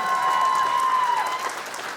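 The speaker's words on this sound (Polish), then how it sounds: "wielkie brawa dla pary młodej!" Wedding guests applaud the newlyweds after their first dance, a dense steady wash of clapping that fills the room and eases slightly toward the end, with a faint sustained tone running beneath.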